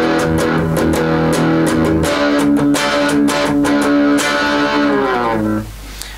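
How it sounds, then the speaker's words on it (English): Recorded guitar part for double tracking in a song arrangement, heard as a dense distorted, effects-laden strummed passage of steady chords with rhythmic accents, playing loud and continuous before cutting off and ringing out near the end. "you have your guitar part and you go ahead and record it"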